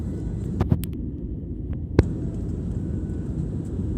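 Steady low engine hum fills an airplane cabin before takeoff, broad and continuous, with a few brief clicks and a single sharp knock over the drone.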